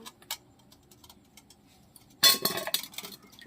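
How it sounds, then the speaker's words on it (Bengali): A knife cuts peeled pointed gourds (potol) on a board, with faint ticks and taps early on, then a burst of louder clattering, scraping cuts near the end, close and with no talk. "তো এবার আমি পটলটা কেটে নেব"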